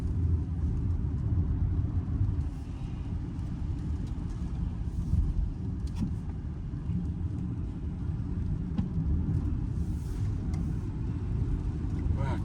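A Zeekr electric car rolls over a bumpy road with a high shoulder, giving a steady low rumble of tyres and suspension with a few faint knocks, heard from inside the cabin.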